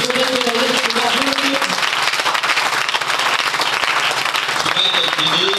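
Church congregation applauding the Lord: sustained, dense clapping from many hands mixed with cheering voices and a sung or shouted line over it, steady and loud throughout.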